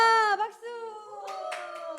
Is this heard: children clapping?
yes